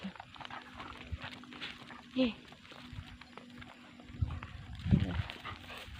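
Faint dog sounds, a short whine and a few soft yelps, come through from a distance over quiet background noise.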